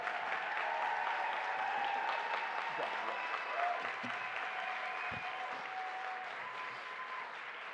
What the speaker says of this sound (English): please give yourselves a round of applause and make some noise